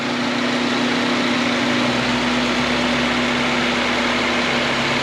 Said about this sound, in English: just rev it a little bit more speed